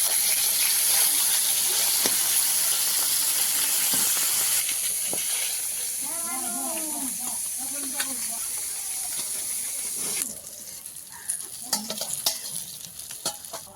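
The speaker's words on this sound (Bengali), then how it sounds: "মাছ ভাজা হয়ে চলছে" Small chuno fish fry in oil with a strong, close hissing sizzle that eases midway; a voice talks briefly over it, and stirring clatters break in toward the end.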